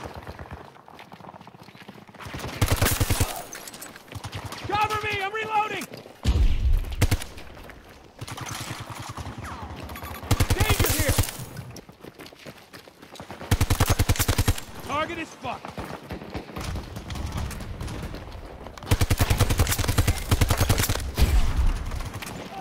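Repeated bursts of loud automatic RM gunfire in a Battlefield video game, several sustained volleys separated by brief pauses, with players talking and shouting excitedly over and between the shots.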